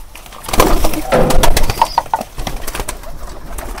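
Close Sirajee pigeon sounds at midday feeding: soft coos mixed with clattering and rustling as birds shuffle and peck, a burst of activity that eases off.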